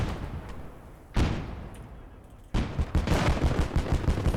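Gunfire in the war video game Call To Arms: Gates of Hell. One sharp blast comes first, then a pause, then a sustained stretch of rapid, rattling shots that stays loud until the end, with no talk over it.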